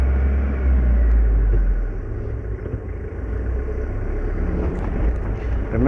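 A car engine rumbling low and steady during a K53 driving lesson, the drone swelling loudly at first and then settling into a continuous hum with road noise, no voices over it.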